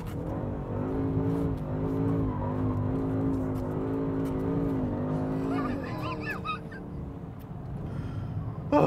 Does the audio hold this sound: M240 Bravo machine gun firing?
no